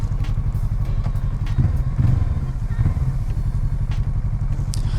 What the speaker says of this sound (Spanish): esta viene con un escape de Akrapovic y le da un sonido curioso, no suena mucho